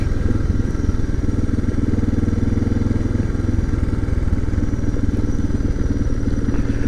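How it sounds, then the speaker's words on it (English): A Suzuki DR650 motorcycle engine chugs steadily at low revs while engine braking downhill in first gear, a loud, close, rhythmic thumping with a mechanical clatter and no talking. "Listen to that engine just chug along."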